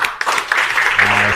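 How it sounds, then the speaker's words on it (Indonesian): Students in a school classroom clap their hands together on a teacher's cue, a dense burst of mixed claps filling the short moment at close range, with some chatter mixed in. "tepuklah tanganmu"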